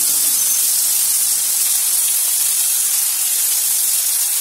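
Chopped tomato sautéing with onion and turmeric in a pan, giving a steady, even hiss of sizzling that runs unbroken and fairly loud from start to finish, with no voices.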